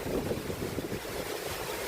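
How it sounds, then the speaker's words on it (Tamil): Strong, steady wind roars without a break, with a dense low rumble and broadband hiss like gusts driving rain, during a night storm in Mullaitivu, Sri Lanka. "மழையும் காற்றும் சேர்ந்து அடிக்குது"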